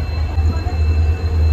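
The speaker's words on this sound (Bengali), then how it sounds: "আর ট্রেন তো সবে হাওড়া স্টেশন থেকে ছাড়লো।" Passenger train pulling out of Howrah station at night, a steady low rumble of wheels and carriage noise running throughout, loud and close from inside the coach.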